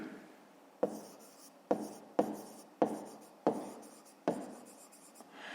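Pen writing on paper while working a fifth-grade maths exercise, heard as six or seven separate bursts of scratchy strokes, each starting with a tap and trailing off. Close, fairly quiet and with no talk.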